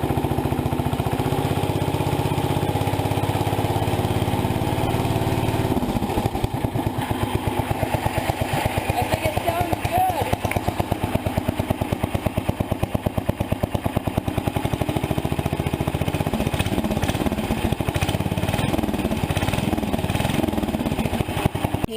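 A 1975 Sears Suburban ST16 lawn tractor engine idling steadily, a low rumbling putter with a faint ticking, close by and fairly even throughout, no voices.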